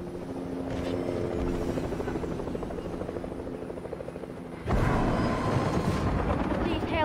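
A helicopter in a video game flies overhead with a steady rotor thrum that swells abruptly louder partway through, as the aircraft passes close, and no one is talking.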